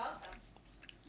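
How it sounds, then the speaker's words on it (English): A person chewing food up close to a microphone, soft wet munching and squishing sounds in short irregular bites, with low background murmur. "He's gonna have to edit out all the chewing."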